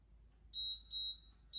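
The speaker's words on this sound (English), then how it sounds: "And there's your beep." A workout timer gives three short, high electronic beeps in a regular rhythm over a quiet background, fairly faint and clear.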